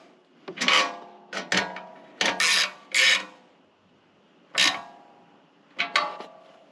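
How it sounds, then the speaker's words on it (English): A ratchet with a 7/16 deep well socket on an extender tightens nuts during a G-body Cutlass dash and air-conditioning install. Several separate rasping bursts of ratchet strokes sound close up, with brief pauses between them. "use a 7/16 deep well socket on an extender with a ratchet to"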